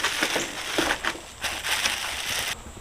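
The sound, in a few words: unwrapping a new accent light from its packaging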